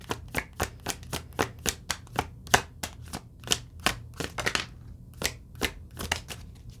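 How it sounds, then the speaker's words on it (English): Tarot cards being shuffled, a quick run of crisp riffling slaps and flutters close by, steady and rhythmic with a short pause near the end, no voices. "let me just do one more shuffle"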